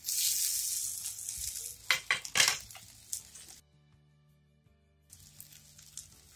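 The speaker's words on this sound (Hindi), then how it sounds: "अब हम इसमें डाल देंगे साबुदाने।" Sago pearls for sabudana khichdi tip into a hot pan tempered with curry leaves, setting off a loud steady sizzle with a few stirring scrapes and clinks. A quiet gap follows before the frying hiss returns.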